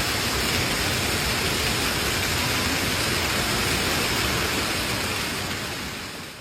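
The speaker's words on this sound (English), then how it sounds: "Yeah, I never seen this much hail ever." Heavy hail pounds down during a severe Kansas storm, a dense, steady roar of impacts that stays loud and unbroken throughout, easing slightly at the very end.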